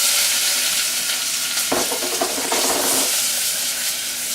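Onions hit a pan of melted butter with a little oil and set off a loud, continuous close-up hiss, with a brief burst of crackling spatter in the middle. No one speaks.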